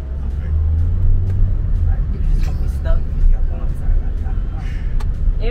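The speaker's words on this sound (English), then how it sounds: "Traffic, I love it. I love the traffic, the chaos." Busy Johannesburg road traffic rumbles up close, with engines and passing vehicles forming a heavy low drone and scattered sharper noises on top, while people talk over it throughout.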